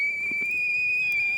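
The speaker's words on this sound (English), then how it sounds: "here's a whistle." A steady, piercing whistle comes from a burning Swedish fire log, one continuous tone holding for the full moment at a constant level, with faint crackle beneath it.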